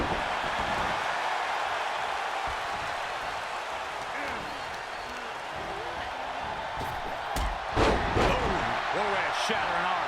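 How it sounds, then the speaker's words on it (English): A Michinoku driver slam lands in the WWE 2K24 wrestling video game: a heavy impact thud near the end over a steady crowd roar, with a commentator talking throughout. "Michinoku driver."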